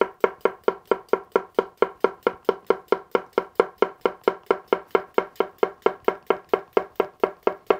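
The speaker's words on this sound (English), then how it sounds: "This is the push chop." A Bunka knife push chopping a cucumber on a cutting board, a steady, fast, even rhythm of about thirty crisp close knocks, each blade stroke landing alone with no talk.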